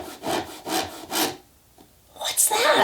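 Hatching chicks scratching with their claws inside eggshells: three rough rasping strokes close by, a pause, then a louder scraping burst at the end, dry and woody in texture.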